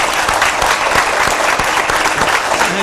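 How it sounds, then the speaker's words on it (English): An audience claps steadily and fairly close, a dense, even wash of applause with a few sharper hand claps standing out, continuing without talk. "I need to give her a round of applause."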